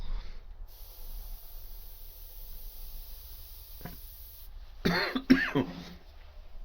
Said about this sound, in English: I coughed just when I was doing a real hard bit there.